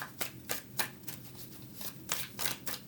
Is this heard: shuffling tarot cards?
yes